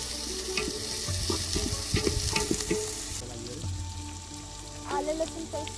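Onion frying for gravy in a pan at a village home cook-up, a steady sizzle with stirring scrapes, some clattering near the start and a brief quieter stretch after.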